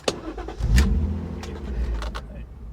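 A car engine cranks and fires up at a dealer auction, a brief starter whir giving way to a low, settling idle that rumbles on close by, with a few light clicks and knocks around it.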